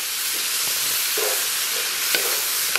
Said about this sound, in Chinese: 咱把提前调好的料汁给它下里边， 给它简单煸炒一下，